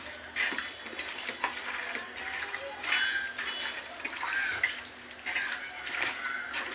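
Marinated chicken meat mixed by hand with a little oil, soft wet squelching and slapping in irregular bursts, close and moderately quiet, with faint clinks of a bowl.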